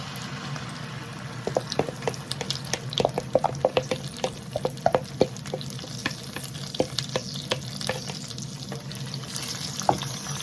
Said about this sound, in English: I'm gonna put my sauce